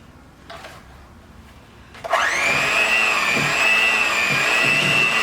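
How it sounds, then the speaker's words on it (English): An electric hand mixer whirs loudly and steadily through lemon pound cake batter with buttermilk, starting abruptly after a quiet moment and holding a constant high-pitched motor drone. "let's get the stirring"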